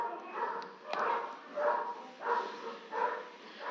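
A dog barks several times through a participant's microphone during an online painting class, the barks coming in spaced bursts and sounding compressed and mid-distance, with faint voices mixed in.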